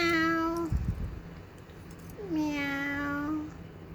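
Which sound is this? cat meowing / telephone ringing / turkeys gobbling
cat meowing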